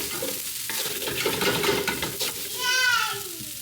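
Fried rice coated in butter stirred in a hot pan, a spatula scraping the bottom with rustling sizzle and a few scrapes, ending in a brief squeaky scrape, close and moderately loud.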